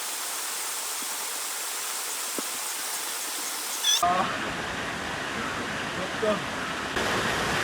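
Flowing stream water in the Sinharaja rainforest, a continuous loud rushing hiss close by, with a sudden change in tone midway and a few brief squeaky calls over the steady flow.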